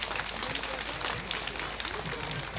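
Festival crowd applauding at an open-air arts and grape-harvest celebration on Bozcaada, with steady, dense clapping sustained throughout under a faint voice.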